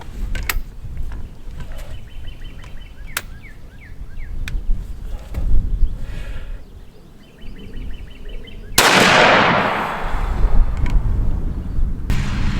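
A shotgun firing Winchester Double X turkey loads at 40 yards outdoors, with a few sharp, loud reports spaced apart, one heavy blast followed by a long fading roar, amid clicks and handling of the action.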